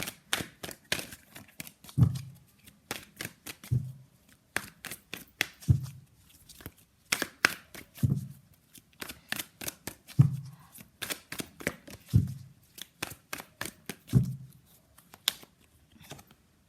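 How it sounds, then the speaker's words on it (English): Tarot cards are shuffled over and over in crisp rapid riffles, each pass ending in a soft thump as the deck is squared, close and clear without speech. "let's pull some cards from universe where this connection is headed in near future"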